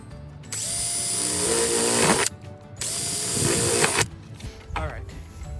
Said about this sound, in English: So I'm gonna go ahead and drill 2 more.